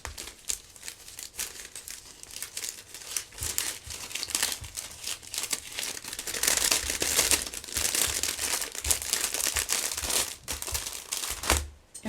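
Plastic bags crinkle and rustle up close as greeting cards and envelopes are slipped inside, with irregular crackling bursts and handling noises throughout, no talking.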